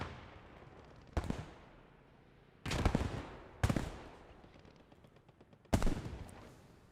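Gunfire on an infantry squad in the video game Post Scriptum, four loud sharp bursts of shots spread over several seconds, each followed by a ringing decay, with a low rumbling background and no voices.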